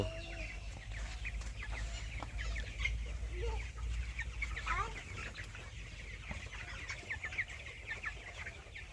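Chickens cluck continuously nearby, a busy flock with overlapping calls, over a low steady hum.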